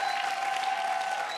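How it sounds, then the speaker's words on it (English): Steady, dense audience applause fills a TV talent show studio, sustained and even throughout with a faint crowd wash and a thin tonal hum underneath. "And a round of applause for all the families who performed tonight."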